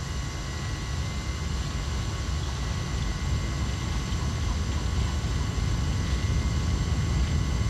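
Airbus A330 jet engines at takeoff power in a flight simulator, a steady, loud roar with deep rumble and a constant high whine running unbroken throughout.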